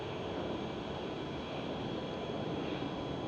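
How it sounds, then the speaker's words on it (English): A KLM Boeing 737 airliner passes at Schiphol airport in Amsterdam, giving a steady broadband jet engine roar that stays loud and constant throughout, with some wind noise and no talking. "There goes a KLM 737."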